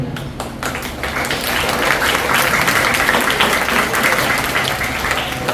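An audience of teachers and pupils at a school anti-smoking and vaping campaign event applauds, a broad, steady wash of many hands clapping that swells and holds for several seconds.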